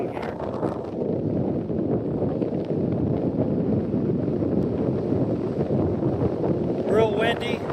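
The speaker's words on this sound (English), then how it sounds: "I'm sure that you can hear the wind blowing." Strong wind blows across the microphone on a hiking trail near an edge at Stone Mountain, a loud continuous rumbling buffet throughout, with a brief higher-pitched sound near the end.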